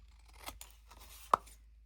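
Scissors cut a small paper square for a mini album at an angle, giving a few quiet, crisp snips with one sharper clip near the end, close and soft, without talking.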